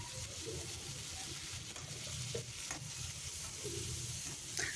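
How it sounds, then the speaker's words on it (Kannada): Chopped tomato frying in a pan for chicken liver fry over a medium flame, a steady close sizzle with soft scraping stirs and occasional small pops throughout. "ಅದು ನೀಟಾಗಿ ಚೆನ್ನಾಗಿ ಸ್ಮ್ಯಾಶ್ ಆಗೋವರೆಗೂ ಫ್ರೈ ಮಾಡ್ಕೊಳ್ಳಿ"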